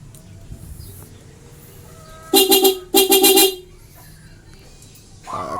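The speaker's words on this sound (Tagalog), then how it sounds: "Pwede natin sabihin sa busina." Loud horn on a Yamaha Vega Force Fi motorcycle gives two strong honks in quick succession, close and clear over quiet background noise.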